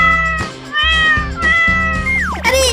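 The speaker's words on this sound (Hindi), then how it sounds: "अरे मेरे इतने सारे बिल्ली के बच्चे हैं, ये सारे दिन परेशान करते रहते हैं।" Several kittens meow in a loud, overlapping chorus of high, wavering cries, one after another with brief gaps, close by and without talk.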